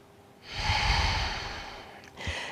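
Slow, deep breathing held through a seated yoga pose: one long, airy breath swells and fades over a couple of seconds, followed by a shorter second breath, close and quiet with no talking.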